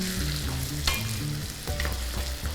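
Garlic and ginger fry with browning cumin for Indian-style green garlic chilli chicken, a dense close sizzle with stirring clatters and scrapes in the pan, with a low hum underneath.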